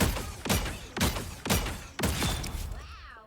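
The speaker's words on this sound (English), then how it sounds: "now your right click turns into this Gatling gun. It's a projectile Gatling gun." Scarlet Witch's projectile Gatling gun firing in a video game, a loud rhythmic burst of about six heavy whooshing shots, roughly half a second apart, close and alone.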